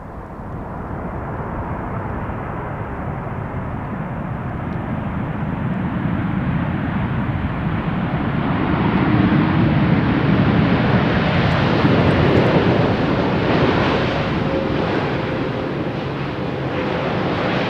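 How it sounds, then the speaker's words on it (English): A plane roars in to land on runway 18R at Amsterdam Schiphol Airport, a loud, broad jet rumble that builds steadily, peaks in the middle as it passes, and holds with wind buffeting the microphone. "Lovely aircraft."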